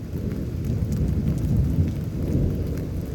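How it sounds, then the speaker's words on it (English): Continuous heavy rumbling thunder from an intense lightning strike during a rainstorm in Houston, Texas, loud and steady, with rain hissing across the whole stretch. "That was a pretty intense lightning strike."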